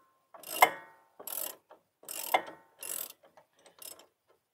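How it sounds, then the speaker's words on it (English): A ratchet wrench loosening the 17 mm bottom bolt of a front coilover shock, heard as several close, distinct clicking bursts separated by short pauses, alone without talk. "we're gonna loosen the bottom bolt of the shock"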